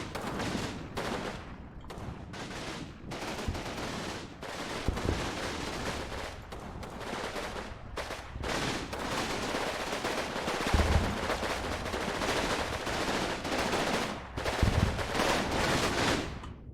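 Gunfire in the video game Combat Mission: Battle for Normandy, a sustained mix of rapid machine-gun bursts and scattered rifle shots, some near and some distant, continuing for the whole stretch without talking.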